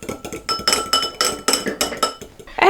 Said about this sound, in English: So now I will whisk the egg yolks with some vinegar.